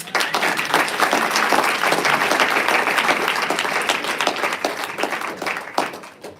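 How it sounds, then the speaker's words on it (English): An event audience applauds themselves at a literary evening, with dense, sustained clapping from a large crowd that holds steady and loud before tapering slightly at the end. "Please give yourself a round of applause"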